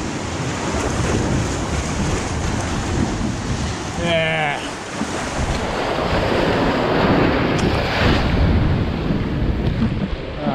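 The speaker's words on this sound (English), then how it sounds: "Got some big waves coming." Big ocean waves crash and roar steadily along the rugged St Croix coast under gusting wind noise, with a short spoken word partway through.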